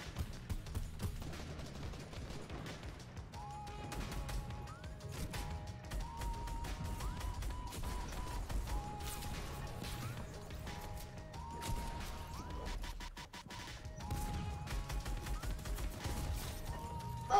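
Shooter video game gunfire crackles in rapid bursts and fusillades, fairly faint and compressed, with mechanical clatter and tonal game effects layered throughout the long stretch.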